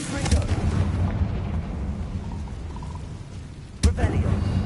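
A Confringo blasting spell goes off in Hogwarts Legacy as a sharp, loud burst near the end, cutting through a steady rumbling game soundscape.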